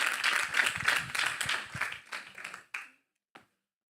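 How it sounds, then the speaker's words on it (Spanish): A church congregation claps for several seconds, the applause dense and close at first, then thinning out and trailing off into a few scattered final claps before falling silent. "Damos un aplauso al Señor y gracias al siervo Miguel."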